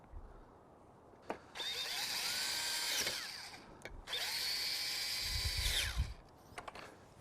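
A power drill drives screws while a Bestop Trektop NX soft top is fitted to a 1997-2006 Jeep Wrangler. Two sustained high whining runs rise in pitch, with light clicks and handling noise before and between them.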